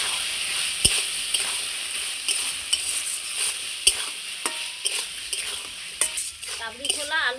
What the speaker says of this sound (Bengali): এইবার আমি ভেজে রাখা আলুটা দিয়ে দেবো।